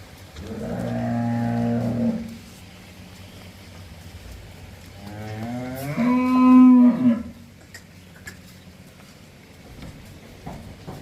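Two loud moos from dairy cows at a farm, one at the start and a longer one a few seconds later, with quiet farmyard background between them and no talking.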